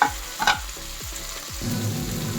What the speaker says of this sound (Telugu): ఇప్పుడు ఇవన్నీ బాగా వేయించుకోవాలి